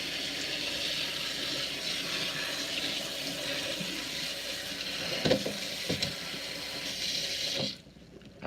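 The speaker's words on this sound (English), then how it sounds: "Drain it, rinse it." Cooked pasta rinsed under a running kitchen tap, a steady close rush of water with a few clunks and knocks near the end before the flow shuts off abruptly.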